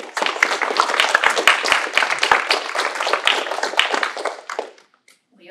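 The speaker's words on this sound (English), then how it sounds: "So an applause for this." Small audience applause at an academic classics and archaeology symposium, brisk clapping from a modest group of hands that carries for several seconds, then trails off to scattered claps and silence.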